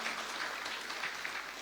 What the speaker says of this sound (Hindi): मैं फिर चाहूँगा कि एक बार आप उनके मनोबल के लिए, उनकी शक्ति के लिए तालियां बजाकर स्वागत करें।